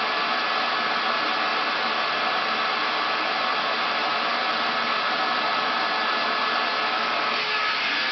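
A hair dryer blows steadily and loudly over hair wrapped on a round brush, a constant close whooshing roar with no talk.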